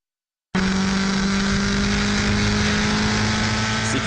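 A Formula 4 race car at Le Mans bursts in after a moment of silence, its engine a loud, steady high-pitched drone at over 200 km/h, recorded close from onboard.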